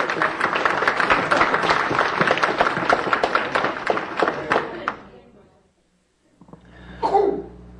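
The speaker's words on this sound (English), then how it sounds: "Give her a round of applause." Audience at a candidates' night gives hearty applause for about five seconds, fading to silence, followed by a brief cough or throat-clearing.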